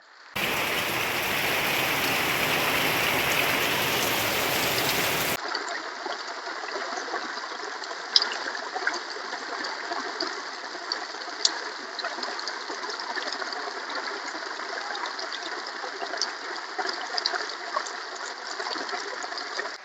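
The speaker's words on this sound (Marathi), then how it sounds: "रात्रीपासून जोरदार पाऊस चालू आहे आणि आता दुपारचे वाजले आहेत बारा तरी सुद्धा पाऊस चालूच आहे" Heavy rain that has been falling since the night pours down steadily outdoors. A loud, dense hiss fills the first few seconds, then it settles into a constant, softer downpour with occasional drips and taps.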